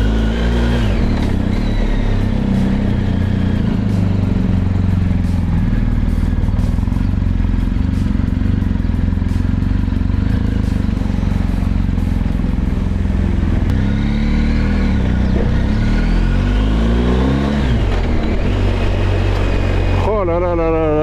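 BMW R 1250 GSA motorcycle riding on new tyres, with a steady loud engine drone and wind noise throughout, rising in pitch near the end as it accelerates, with a rider talking over it.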